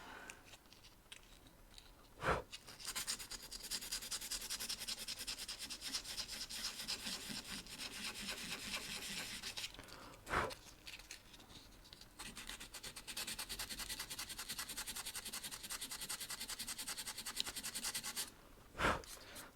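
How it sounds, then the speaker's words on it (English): Steady scratchy sanding of a Miles Morales sculpture by hand before the base coat, long rasping strokes continuing for many seconds, broken by a few sharp knocks and brief pauses. "it's just sanding just a few places until I start doing the base coat"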